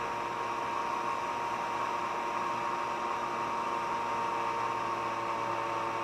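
Zero Lenz dynamo generator motor running at 7,000 RPM, a steady, continuous mechanical hum and whirr with faint noise, even and unchanging throughout, moderately quiet with no talking.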